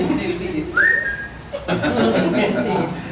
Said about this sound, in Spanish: Un silbido.